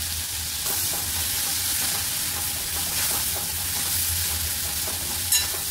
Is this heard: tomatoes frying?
yes